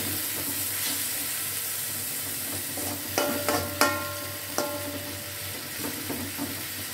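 Chopped carrots with a little water cooking in a pan, a soft, steady sizzle with several sharp clinks of a spoon stirring against the pan midway, fairly faint and without speech.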